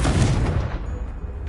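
A Confringo blasting spell goes off in the video game Hogwarts Legacy at a goblin dig site, giving a sharp, loud blast at the start that trails off into a rumbling decay.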